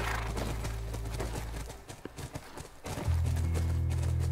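Horse hooves thud in The Last of Us Part II, loud and close amid game ambience, with a low steady drone taking over in the final seconds; almost no talk.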